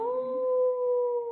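A person imitates a dog howl in one sustained, steady, wavering vocal tone, close and clear with no other sound.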